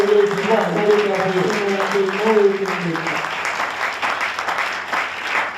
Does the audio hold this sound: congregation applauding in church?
yes